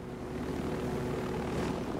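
Steady, continuous drone of an aircraft engine in Ghost Recon Wildlands, close and fairly loud, holding an even propeller-like rumble for the full two seconds with no voices.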